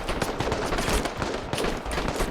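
Battle gunfire in the game Call to Arms: dense, continuous overlapping rifle and machine-gun shots, loud and close, with no speech.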